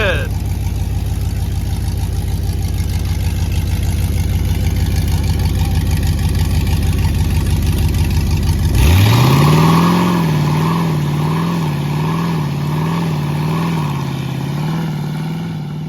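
A $3000 project burnout car in second gear, its engine droning steadily at high revs for several seconds, then dropping and settling into a wavering, surging rev that fades slightly toward the end.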